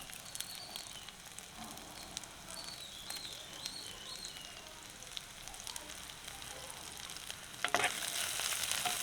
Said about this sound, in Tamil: இது கொஞ்சம் வதங்கட்டும்